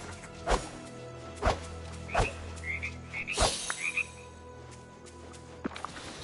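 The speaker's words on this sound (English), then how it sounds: "I heard another frog rip it. Sounded like it came from this way" A frog croaks several times in the Disney Dreamlight Valley video game, sharp separate calls spaced about a second apart, with small game chimes and effects between them and no talk.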